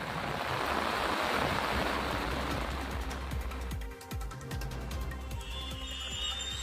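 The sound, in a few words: floodwater on highway with vehicles wading through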